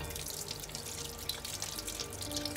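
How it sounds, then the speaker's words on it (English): A sink faucet runs steadily while hands are rinsed under it, a close, continuous splashing wash of water with small irregular drips and spatters, no voices. "And then rinse your hands"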